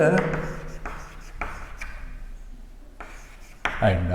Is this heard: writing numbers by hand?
yes